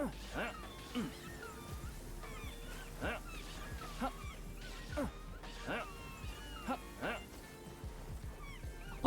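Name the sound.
Palworld seal creatures calling like seagulls, video game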